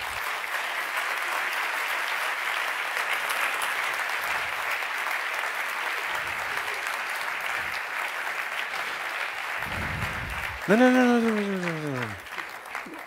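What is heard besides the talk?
audience applause at an award ceremony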